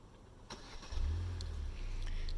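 A 2020 Hyundai Sonata starting by remote start: a brief starter crank, then the engine catches into a low, steady idle that holds close and clear, with no talking.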